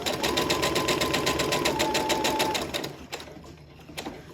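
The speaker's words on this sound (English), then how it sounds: "So I'm just going to sew down to that first line." Sewing machine stitching fabric for a simple gift bag, a loud, steady rapid needle clatter close by for about three seconds, then stopping, followed by a few faint clicks.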